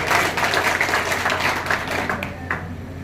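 Advocates at a Bar Council of Uttar Pradesh gathering clap for their council president, a dense, steady round of applause heard close and fairly loud.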